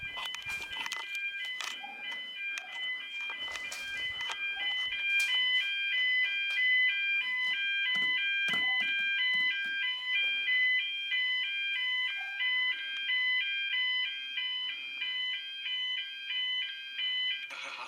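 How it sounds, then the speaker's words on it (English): Homemade annoying alarm clock blaring a fire-alarm tone: a loud, continuous pulsing electronic beep pattern that repeats steadily throughout, with faint thumps and rustling underneath. "Engage the fire alarm."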